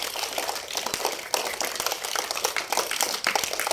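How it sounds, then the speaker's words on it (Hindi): A class of schoolchildren applauds themselves with dense, continuous clapping that fills the room steadily at moderate loudness, with no talk over it. "सब अपने लिए भी तालियां बजा लो।"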